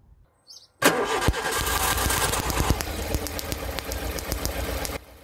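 A car engine with an ignition spark tester fitted cranks and catches almost at once, then settles into a loud, steady, close idle with a faint ticking rhythm and no voices.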